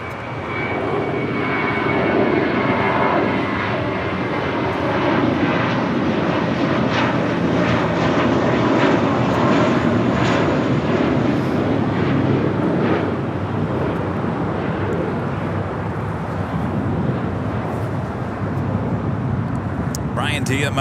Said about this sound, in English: JetBlue Airways, late 1374, heading to Newark,